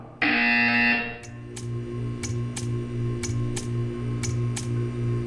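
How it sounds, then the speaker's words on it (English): In Portal 2's art test, a harsh electronic buzzer sounds loudly for about a second, then gives way to a steady hum with evenly spaced ticking clicks. "You will hear a buzzer. When you hear the buzzer, stare at the art."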